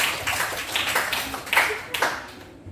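Scattered claps from students in a classroom, a few sharp taps rising briefly then fading after a couple of seconds, with faint voices underneath.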